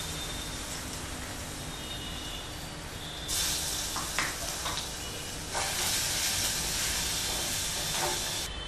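Cumin seeds, a pinch of asafoetida and crushed garlic sizzle in hot oil while cooking Marathi-style colocasia leaf curry, a steady close hiss that surges louder around three and a half seconds and again near five and a half, with small crackles.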